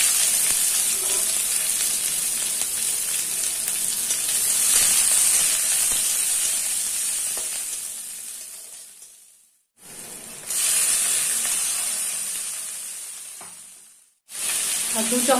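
Onions sizzle and fry loudly in hot oil seasoned with nigella seeds and a dried red chilli while cooking a potol and fish dorma, a steady close hiss that briefly drops out twice.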